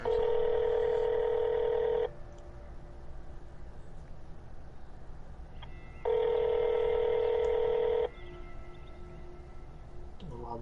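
A telephone call to a GameStop store rings out in two long, loud electronic ring bursts separated by a quiet gap, with no talk during the rings.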